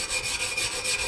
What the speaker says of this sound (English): I'm just getting all of this rust off and stuff.